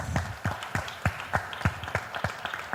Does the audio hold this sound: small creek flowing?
no